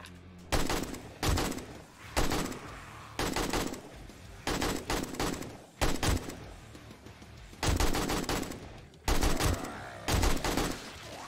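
Repeated loud bursts of gunfire mowing down zombies in 7 Days to Die, arriving as about nine short volleys with brief pauses between them, close and punchy.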